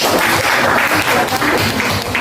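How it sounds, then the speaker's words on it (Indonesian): A classroom full of people clapping steadily, a dense continuous patter of applause throughout. "tepuk tangan untuk kelompok"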